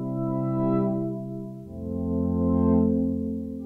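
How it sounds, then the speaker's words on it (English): A soft, sustained synth pad chord made from a sampled acoustic guitar string swells gently, then shifts to a lower, fuller chord, smooth and even with no attack. "we started with a single guitar string and we turned it into a pad sound like this."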